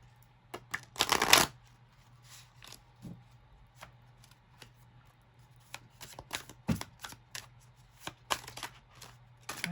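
Tarot cards are shuffled in a quick riffle burst early on, followed by scattered soft card taps and slides over a low steady hum.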